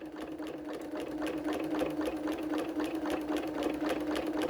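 A sewing machine stitching a T-shirt rag quilt, running at a steady, rapid mechanical rhythm with an even whirring hum and repeated needle clatter throughout.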